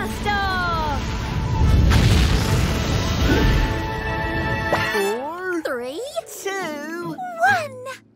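A cartoon rocket from a children's counting show blasts off with a loud, rumbling roar that builds and fades over a few seconds, followed by cheerful animated voices talking.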